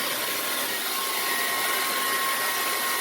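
An old handheld blow dryer runs steadily with a loud, close, continuous airy roar and a faint high whine, unbroken for the whole stretch with no talking.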